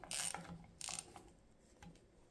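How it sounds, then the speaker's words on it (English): A ratchet wrench snugs down the lower timing chain girdle bolts on a DAZA engine build, giving two or three quick bursts of close, dry clicking with brief pauses between them and no talking. "just going to tighten these up"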